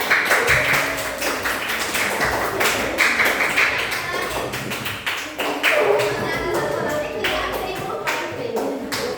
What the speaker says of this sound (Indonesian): Tepuk tangan untuk Deus Providebit.